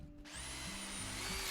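A power drill runs steadily with a whining motor tone from a cartoon pony episode, starting abruptly after a brief quiet moment and continuing at a constant level throughout.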